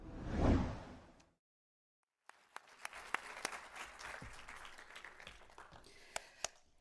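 A crowd at the Reusies 2023 live awards event breaks into applause after a brief whoosh and a short silence. Scattered, distinct claps thicken into a steady, moderate ovation, heard without speech.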